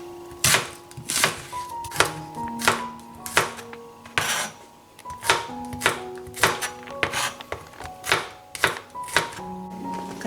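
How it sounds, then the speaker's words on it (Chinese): Knife chopping onion and garlic on a cutting board, a series of loud, close, irregular thuds and taps in quick bursts, no talk. "把洋葱和蒜切一下"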